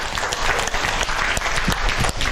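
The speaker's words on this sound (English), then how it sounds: "A round of applause for that." An audience claps together in a dense, steady burst of applause, close and lively throughout.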